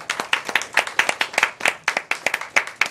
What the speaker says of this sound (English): Yes, there's many claps